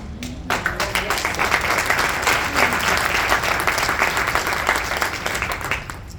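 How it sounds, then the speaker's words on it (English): A seminar audience breaks into steady, dense applause that holds for about six seconds, full and even, with no talk over it. "thank you for the applause"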